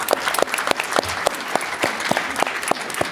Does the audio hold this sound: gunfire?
no